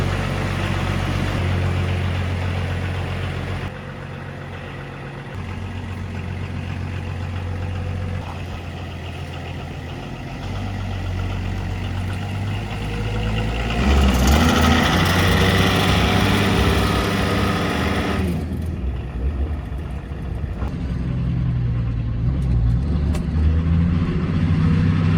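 A car engine runs steadily on a test drive after brake work, its low hum swelling and settling as road noise rises mid-way, with wind and cabin rumble throughout.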